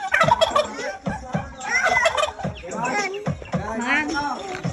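Turkeys kept in a rural yard gobble loudly and repeatedly in rapid, warbling bursts close by, with several calls overlapping across the stretch.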